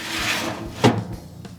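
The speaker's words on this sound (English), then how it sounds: "Get this door closed." Smoker door being closed after loading pork tenderloin, a rubbing wooden scrape followed by a single dull thump, close and alone.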